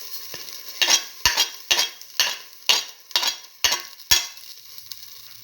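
Fenugreek and fennel seeds sizzle in hot oil. Nine or ten sharp bursts of crackle come at a steady rhythm as a utensil stirs the pan, close and loud.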